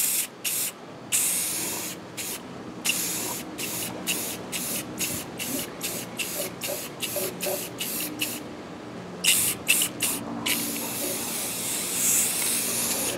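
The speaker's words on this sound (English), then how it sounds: "because I'm finna spray it" Broad hissing bursts of spray paint onto a partscaster guitar body, several long sprays broken by short pauses, loud and close, with no talking.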